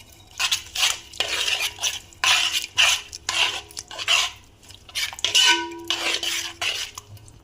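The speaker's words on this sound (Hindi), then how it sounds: "और ये हमारे पास है सब्ज़ मिर्ची कुटी हुई। और इन सारी चीज़ों को कर देंगे मिक्स।" Crushed green chillies and spices are mixed into two kilograms of chicken for chicken malai, heard as close, rhythmic scraping and clinking of a spoon against a metal bowl in repeated strokes, with no talking.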